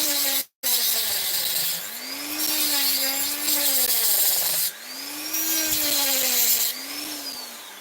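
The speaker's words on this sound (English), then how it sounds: "I've got a new blade in the Dremel." A Dremel rotary tool fitted with a new blade cuts steadily and loudly close by, its high whine rising and falling in pitch as the load changes, with one brief cutout near the start.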